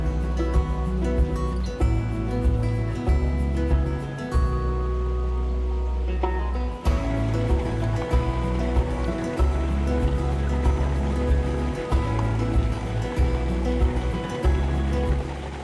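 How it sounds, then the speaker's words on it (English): A small stream flows steadily near woods on a Scottish island, giving a continuous rushing, babbling wash of water, fairly close and with no voices. "There's a cracking little stream just down where those trees are."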